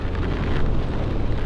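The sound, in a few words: heavy rain and strong wind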